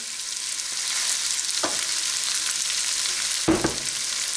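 Yukon Gold potatoes fry in a pan for corned beef hash, giving a steady, moderate sizzle with two brief knocks or stirs partway through.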